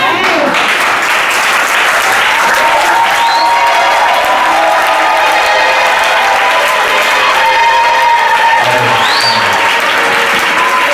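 Church congregation applauding Jesus during a Sunday worship and thanksgiving service, sustained loud clapping from a large crowd filling the room throughout, with cheers and voices mixed in.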